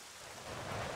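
Steady rain falling in a cold, rainy area of the video game The Legend of Zelda: Twilight Princess HD, a dense even hiss that swells slightly toward the end, with no voices.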